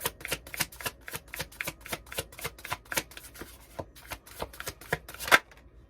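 Tarot deck being shuffled by hand, a quick steady run of crisp card riffles and slaps close by, repeating in an even rhythm for several seconds before stopping.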